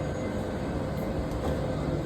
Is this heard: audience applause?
no